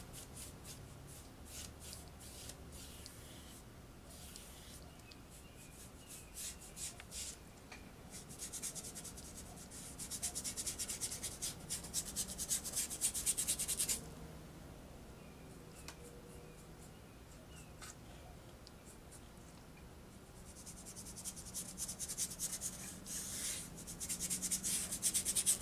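A brush is scrubbed back and forth over a surface in steady, close rubbing strokes, growing louder in bursts and then easing off, with no one speaking.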